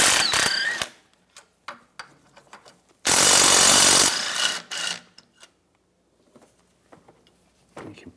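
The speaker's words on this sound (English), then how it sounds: "I'm going to use a 13mm socket. Take these 2 bolts off for the sway bar." A 13mm socket wrench works on the sway bar bolts of a 2009-2013 BMW 328i xDrive, giving scattered ratcheting clicks and metallic taps, with one louder, harsher burst of mechanical rattling partway through, close to the ear.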